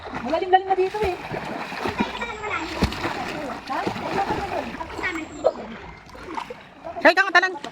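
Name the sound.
splashing from jumping into cold river water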